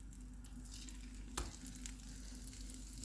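A slice of bread frying in hot butter over low-to-medium heat gives a steady close sizzle with a brief crackling burst partway through.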